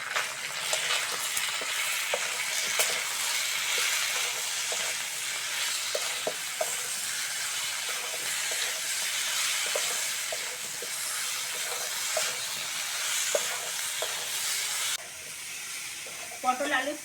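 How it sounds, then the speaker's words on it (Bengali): Pointed gourd and potatoes frying with ginger-garlic paste, salt, turmeric and chilli powder in a pan, a dense, even sizzling hiss with occasional soft stirring knocks, steady and close, with a brief clatter near the end. "পটল আলুর সঙ্গে সব মশলাগুলো ভালো করে কষে নিয়েছি"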